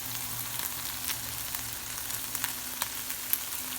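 Canned kalua pig, Hawaiian-style pulled pork, sizzling softly as it browns in a pan, a steady quiet hiss with scattered small pops over a low background hum.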